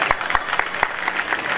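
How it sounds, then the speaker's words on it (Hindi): A wedding crowd claps loudly at a mass marriage ceremony, the dense applause carrying on steadily with a few sharper accented claps standing out. "जोरदार ताली"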